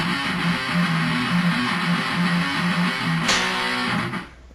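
Distorted electric guitar chugs the riff in power chords, a fast driving run of palm-muted notes and shifting chord stabs played alone and fairly loud, ending in a brief ringing fade.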